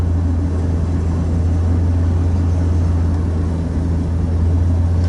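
An eastbound manifest freight train rolls past in Fremont, Nebraska, as a steady heavy rumble with a droning low hum that holds throughout.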